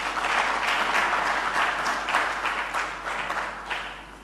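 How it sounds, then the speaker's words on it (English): Applause in a hall after praise for the government at a national update, steady clapping from a moderate crowd at a middling level that thins slightly toward the end. "I think government deserves an applause here."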